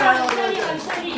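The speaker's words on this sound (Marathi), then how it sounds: "जोरदार टाळ्या" Brief applause at a birthday celebration among friends, a short burst of many hands clapping mixed with voices in the room.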